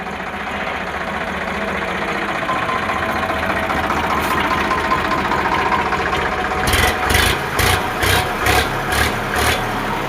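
A 2011 model tractor engine runs at a steady idle, close and fairly loud, with a rhythmic pulsing knock in the last few seconds. No one speaks.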